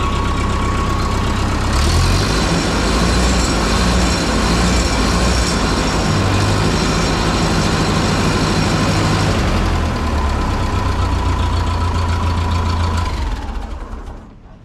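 A Ferguson TO-30 tractor engine runs steadily and loudly for most of the stretch, a dense low rumble that cuts off near the end and fades out.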